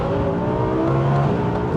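A 1270 hp Audi TT engine, heard from inside the car, holds a loud, dense drone with layered harmonic whine, the pitch sitting steady with a slight rise across the short burst.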